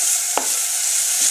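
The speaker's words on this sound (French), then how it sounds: "Des lardons qu'on fait rissoler dans un filet d'huile." Smoked lardons fry in a drizzle of oil, giving a bright, even sizzling hiss broken by a single sharp utensil tap against the pan, close and unaccompanied by voices.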